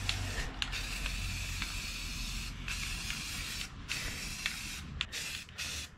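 Aerosol can spraying a thick coating onto the floor pan of a 1961 Parkwood Wagon, a loud, continuous close hiss broken by a few short pauses between passes.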